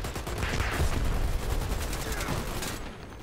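Dense, continuous machine-gun fire from the first-person shooter Dirty Bomb, a loud rapid burst of shots running almost the whole time before cutting off near the end.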